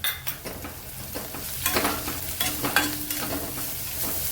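Ginger-garlic paste fries in hot oil with sautéed onion for a paneer chingari curry, giving a steady close sizzle while a spoon scrapes and taps the pan in irregular strokes.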